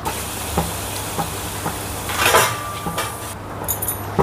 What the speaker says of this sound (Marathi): आता शेंगदाणे तळून घेऊया।